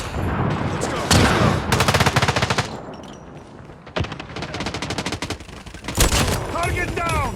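A shotgun fires on automatic in a military shooter video game, with rapid bursts of loud gunfire, booms and effects crowded together while voices talk over the shots.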